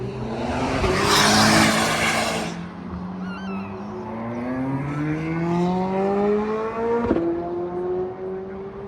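A ZR1 at a car meet passes with a loud, rising engine roar climbing in pitch over several seconds, preceded by a burst of broadband rush and ending with a sharp pop.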